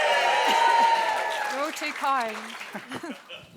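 An audience claps and cheers for the judges at a live competition event. The applause is loudest at the start and fades as a voice speaks over it.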